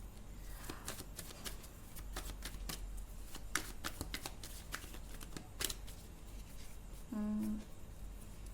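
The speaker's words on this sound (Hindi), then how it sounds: "चलो मैं और एक बार शफल करती हूँ।" Tarot cards are shuffled by hand in quick, crisp riffling bursts, close and fairly quiet, with soft card slaps in between and a brief voice near the end.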